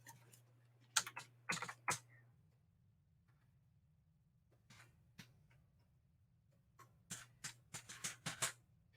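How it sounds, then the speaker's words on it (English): Quick bursts of keystrokes on a computer keyboard as a password is typed, clustered around the start and again near the end, with a quiet pause between and a steady low hum underneath. "then you have to type your password"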